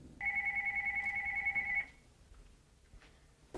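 An electronic telephone ringtone trills steadily for about a second and a half, loud and close, then cuts off and leaves a quiet room.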